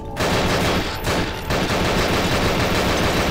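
Rapid automatic gunfire from a first-person shooter game, Nightmare House 2, rattling continuously and loudly for several seconds with only a brief dip, dense and close with no voices.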